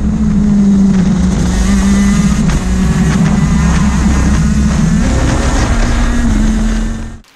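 A go-kart engine revs hard on a race track, loud and close, its buzzing pitch climbing and dropping with short shifts before cutting off abruptly at the end.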